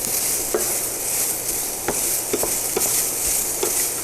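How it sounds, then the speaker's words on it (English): Steady, loud sizzling of spaghetti and broccoli stir-frying in a pan, with occasional clicks and scrapes of stirring breaking through the hiss. "Hear the sizzle in the stove."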